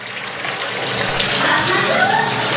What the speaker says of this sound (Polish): Napełniamy wannę ciepłą wodą.